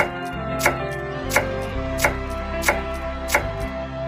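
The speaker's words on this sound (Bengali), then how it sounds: "এবার কেটে নেবো আমরা শশা শশাটাকেও একদমই টমাটোর মতো করে কেটে নেবো" A knife chops cucumber on a cutting board for a salad, landing six sharp, evenly spaced strikes at a steady, unhurried rhythm over a faint background hum.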